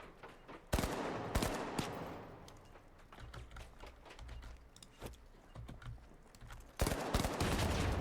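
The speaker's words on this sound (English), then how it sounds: "I don't know why the first one didn't blow up, but the second one certainly blew up" Explosive gadgets go off in the video game The Finals, sharp loud blasts at the start and near the end with gunfire-like bursts and quieter rumbling between them.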